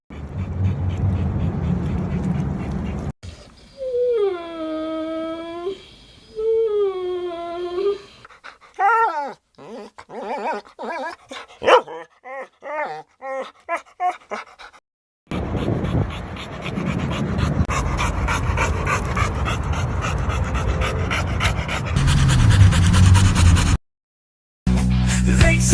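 A dog pants rapidly and close up, alongside whining, yelping and brief bark-like sounds, with loud scuffling noise toward the end.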